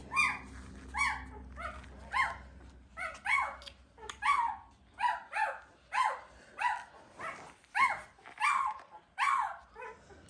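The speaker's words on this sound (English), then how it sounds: "This little puppy is Otis" A small doodle puppy yelps and whimpers in a steady string of high, short cries, close by with brief pauses between them.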